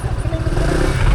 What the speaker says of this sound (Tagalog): Nakadaan man isang motor.